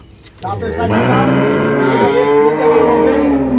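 A dairy cow on a farm gives one long, loud, close moo, low and drawn out, filling nearly the whole clip.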